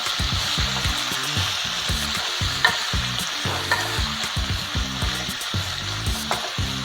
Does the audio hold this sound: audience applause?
no